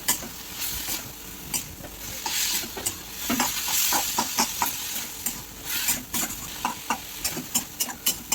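Chati saag greens being stirred and turned in a hot pan, a dense sizzling hiss broken by repeated scraping strokes of the spoon, close and steady with no talking.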